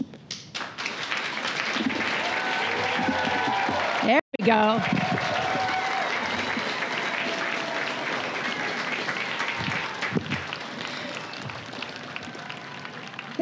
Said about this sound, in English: That was a healthy round of applause.